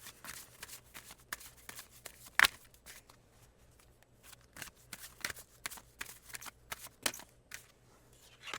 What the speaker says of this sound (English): let's take out more oracles to figure out what's going on with Key's love life